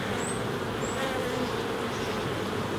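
A steady, dense buzzing of many honey bees close by at the hive, continuous and even, with no voices.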